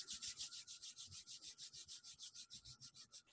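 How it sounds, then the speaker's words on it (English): Hands rubbing together briskly during a t'ai chi session, a fast, even back-and-forth swishing friction of about six strokes per second, soft and close throughout. "just rubbing your hands together"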